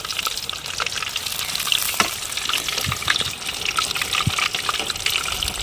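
Whole quail roast in a pan village-style, a loud, continuous crackling sizzle filling the space, with occasional sharp pops and a few soft thuds as the pieces shift.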